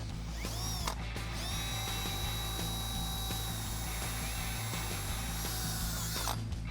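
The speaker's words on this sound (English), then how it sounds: "I am just going to drill as straight as possible into the other side" A power drill whines steadily at a high pitch while boring a pilot hole into a metal axle-side track bar bracket on a Jeep Wrangler TJ, close and continuous over a low background hum.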